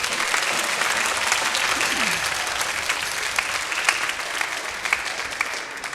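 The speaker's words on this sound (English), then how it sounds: "Give them a round of applause." Sustained applause from a large audience at a school band concert, dense and steady clapping throughout with the odd louder clap standing out.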